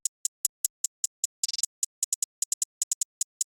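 A galloping hi-hat pattern from a trap beat: crisp, bright ticks in uneven short-short-long groups, plus a quick stuttered roll near the middle, played dry and alone.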